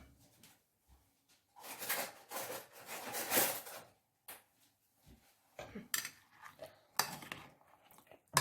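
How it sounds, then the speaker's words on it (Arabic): Spoons stir crushed biscuits together in a bowl while a chocolate biscuit cake is made, giving close, intermittent bursts of scraping and clinking separated by quiet pauses. "هنبتدي نقلب البسكوت كله مع بعض كده"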